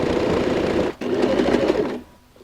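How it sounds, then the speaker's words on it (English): A sewing machine runs a top stitch along a seam join on a DIY pyramid-style handbag, whirring steadily and close for about two seconds with a short break near the middle before it stops. "Edge my foot to the edge of this join and go and sew a top stitch."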